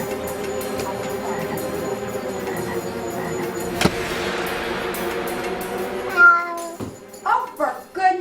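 A steady mechanical hum fills most of the clip, then a cat meows several times near the end, short and fairly close.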